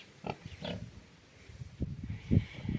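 A fat Vietnamese pot-bellied sow gives several short, low grunts at close range, coming in irregular bursts over faint background noise.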